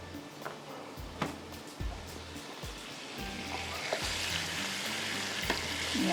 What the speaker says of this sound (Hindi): पहले मैं इसको थोड़ा सा फ्राई कर लेती हूँ